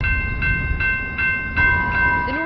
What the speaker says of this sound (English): The northbound Rail Runner Express is up and running with a brand new window pane.